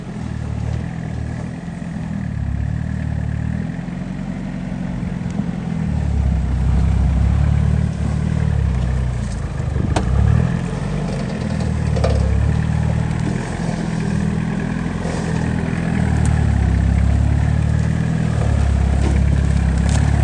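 Low, steady engine rumble of a Toyota Hilux LN106 idling as it climbs off-road with the front locker engaged, continuous and close, with occasional clatter and knocks from the vehicle.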